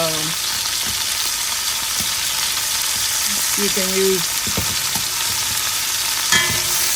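Steady loud sizzling and crackling of chicken frying on high heat in a pan, with a brief spoken remark and a few faint clinks underneath.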